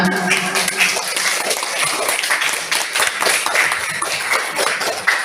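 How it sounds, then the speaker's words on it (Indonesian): Classroom of students clapping for a presenting group, a dense, continuous patter of many hands lasting several seconds with no talking over it. "Tepuk tangan dulu untuk kelompok 5."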